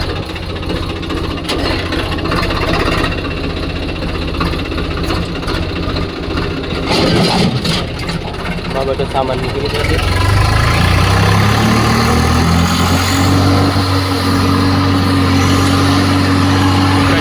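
A small mini tractor engine idles and rumbles loudly throughout, its steady low drone rising as it revs up partway; a person speaks briefly over the noise.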